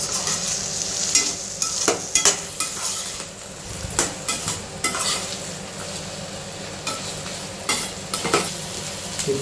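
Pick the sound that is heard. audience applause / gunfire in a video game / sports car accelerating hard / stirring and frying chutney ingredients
stirring and frying chutney ingredients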